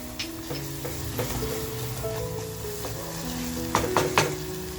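Onion frying with salt in a pan, with a continuous close sizzle and occasional stirring scrapes over it, plus a couple of sharper clinks near the end, and no talking.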